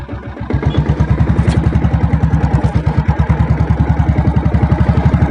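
A 7.5HP diesel Royal Enfield Bullet motorcycle with self start runs close by, giving a loud, even, rapid thumping beat that stays steady throughout.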